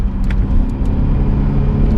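Second-generation Cadillac CTS-V on the move, a heavy, steady low engine rumble and road drone close by, with faint ticks and clicks riding over it.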